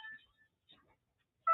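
A mobile phone gives a few short, faint electronic beeps as it is switched off, with a brief louder tone at the end.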